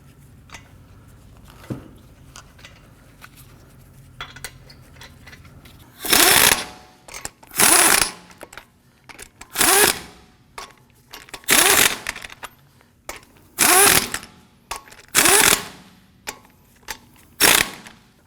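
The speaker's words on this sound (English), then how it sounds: "I'm going to go ahead and get all of our lug nuts started. Once they're all started, we'll go ahead and snug them down." An impact wrench runs down the lug nuts on a 2015-2020 Ford F-150 front wheel in a series of eight loud, short rattling bursts spaced a second or two apart, close up with low shop hum between.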